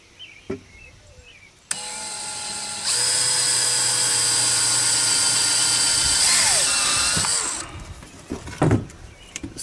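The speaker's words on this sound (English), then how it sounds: "we're just going to drill, I think I got a 5/32 bit through the PVC" A power drill with a 5/32 bit whirs steadily through PVC pipe for several seconds after a few clicks and handling noises, then winds down; close and loud, no talking.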